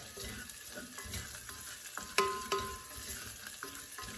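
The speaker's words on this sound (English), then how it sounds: "I don't want to fry it. I just want to like saute it a little bit." Beef sautes in olive oil for a Mongolian beef dish with vegetables, giving a steady close sizzle with a couple of sharp spatula clicks and scrapes partway through.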